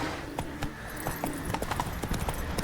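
Horse hooves clip-clopping in The Witcher 3, a steady quick patter of hoofbeats close up over a low background bed.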